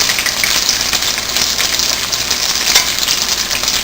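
Sambusas deep-frying in hot oil, a loud, dense, continuous sizzle with rushing bubbling and occasional sharper spatter pops, close up and alone without speech.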